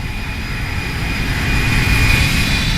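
Steady loud roar of Airbus A319 jet engines with IAE engines during a simulated flyby, a broad rushing drone with a thin high whine that swells slightly toward the end.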